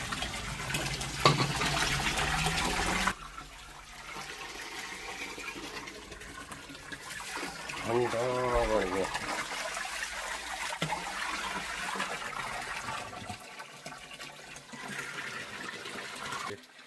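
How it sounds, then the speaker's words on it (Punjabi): Spring water flows from a mountain and splashes continuously nearby, a steady gushing stream with faint voices in the background. "ਪਹਾੜ ਤੋਂ ਪਾਣੀ ਨਿਕਲਦਾ"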